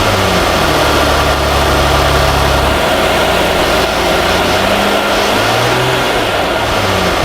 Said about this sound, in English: that is your main supercharger bearings that become noisy